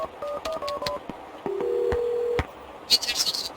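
Touch-tone keypad beeps followed by a long steady dial or ring tone from a phone in the game Max Payne 2, with a brief burst of noise at the end; clear and close, no talk.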